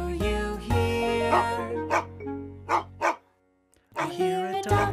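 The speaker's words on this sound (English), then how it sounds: "I hear a dog." A dog barks several times in a steady run of sharp, clear woofs, with some whimpering yips mixed in. The barks sit close and loud, and voices talk over them.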